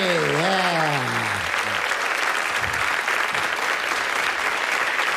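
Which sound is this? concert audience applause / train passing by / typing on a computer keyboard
concert audience applause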